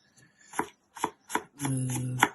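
A knife slices through onion on a cutting board in four crisp, separate cuts, close and clear, with a short pause between each and a longer final stroke, in a quiet kitchen with no talking.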